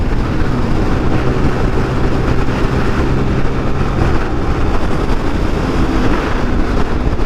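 A Zontes 350D motorcycle is ridden hard at speed on Singapore roads, its engine a faint steady drone buried under loud, constant wind roar for the whole stretch.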